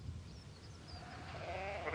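Sheep bleat on open Dartmoor moorland in spring, lambing season, a couple of wavering calls carrying from a short distance over a soft outdoor background.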